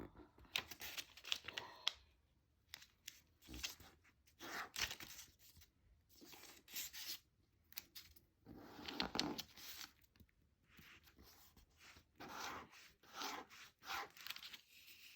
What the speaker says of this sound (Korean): 여기 부분이 가운데까지 오도록 이렇게 접어 주세요.